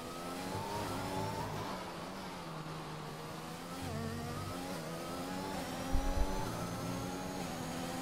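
A McLaren Formula 1 car engine in a racing video game at the Mexico circuit whines steadily at high revs, with pitch rising and dipping through gear changes and a brief low thump near the end.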